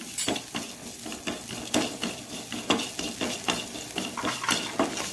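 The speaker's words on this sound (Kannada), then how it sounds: "ತೆಂಗಿನ ತುರಿ ಚೂರು ಫ್ರೈ ಹಾಕ್ಕೊಳ್ಬೇಕು. ಆಗಲಿ ಮೆಣಸು ಫ್ರೈ ಆಗಬೇಕು" Grated coconut and chillies frying in a pan for coconut chutney, a low sizzle under repeated metal spoon scrapes and clinks against the pan at an irregular rhythm, close and without talk.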